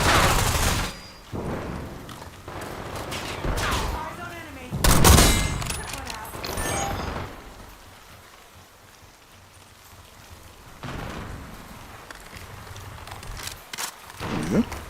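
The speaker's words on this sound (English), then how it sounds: "Let's play with the sniper for a bit, see if I can out-snipe them" Sniper rifle shots ring out in a video game, several sharp bursts spread unevenly across the stretch, mixed with game ambience and patches of background noise, with a voice talking at times.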